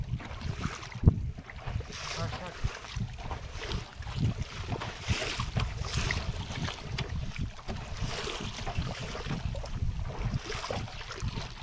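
Strong wind gusts across a river during fishing from a boat, rough buffeting noise rising and falling throughout, with water movement underneath.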